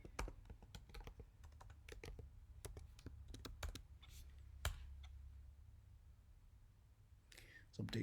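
Quiet, close keyboard typing on a Mac, a run of irregular clicky keystrokes with a few pauses, under faint background hum and occasional soft speech.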